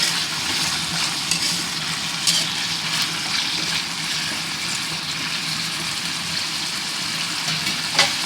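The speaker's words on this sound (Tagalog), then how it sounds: "ginigisa muna natin ang mga patatas, carrots, at red bell pepper bago natin ilagay sa ating caldereta" Potatoes, carrots and red bell pepper sauté in a pan for caldereta, giving a steady, close, continuous sizzle with occasional stirring clatter.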